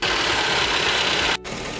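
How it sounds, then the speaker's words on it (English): A car engine idles close up with a steady mechanical tapping from a worn belt and faulty tensioner adjuster, running as a dense, even clatter for under two seconds before a brief cut. "Tapping noise from the belt and adjuster."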